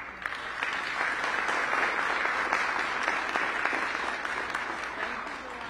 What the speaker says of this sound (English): join me in a round of applause for Dwan